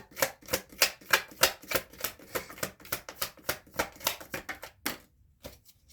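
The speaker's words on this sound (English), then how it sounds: "Let's shuffle." Tarot cards being shuffled by hand, a rhythmic series of crisp riffling bursts about twice per second, close and loud, tapering into a few scattered flicks at the end.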